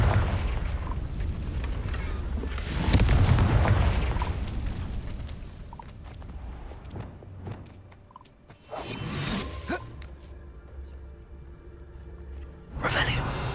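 Confringo spell blasts in Hogwarts Legacy, played on hard mode: several booming bursts with whooshing tails, the loudest about a quarter of the way in and more near the middle and end, over a rumbling game soundscape.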